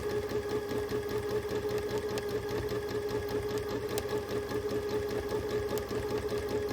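A sewing machine hums and rattles steadily through free motion quilting, a continuous close mechanical drone with a fast stitching pulse and no pauses.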